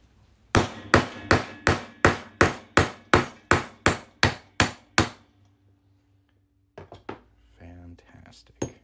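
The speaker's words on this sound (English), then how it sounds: "Hammer this on through now." Thirteen sharp, evenly spaced hammer blows ring out on metal while a Morgan silver dollar coin is struck through with a punch to make a ring, then stop; a few quieter knocks and a brief voice follow.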